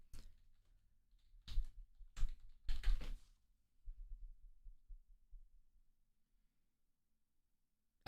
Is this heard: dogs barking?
no